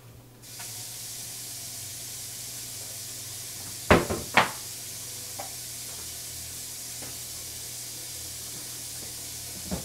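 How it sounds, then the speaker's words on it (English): Tap water runs in a steady, even hiss as hands are rinsed at a kitchen sink, with a couple of sharp clatters and knocks around the midpoint and no talking. "going to rinse my hands, wash my hand here"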